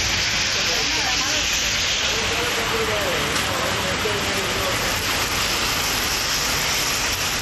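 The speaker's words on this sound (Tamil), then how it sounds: "சிதம்பரம் சுற்றுவட்டாரத்தில் பலத்த காற்றுடன் பரவலாக மழை பெய்தது" Heavy rain driven by strong wind around Chidambaram roars as a dense, steady hiss at close range, unbroken for the whole stretch, with no talking.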